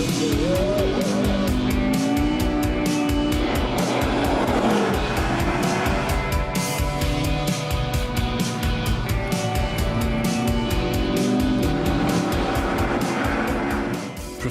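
A supercar engine revs hard and steadily at about 4,000 RPM on a slippery runway, loud and close throughout, with faint tire squeal mixed in.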